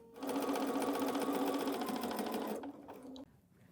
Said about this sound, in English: I'm going to sew ever so slightly to the right side of the line, just ever so slightly.